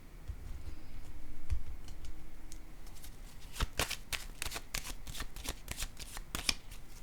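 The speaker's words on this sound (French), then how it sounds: "Je vais déposer une carte ici." Playing cards handled on a table, with soft rustling early on, then a rapid series of crisp snaps and slaps as cards are laid down near and clear.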